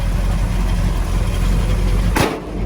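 A nearly finished truck idles with a quiet, steady low engine hum throughout, and a brief soft whoosh comes near the end.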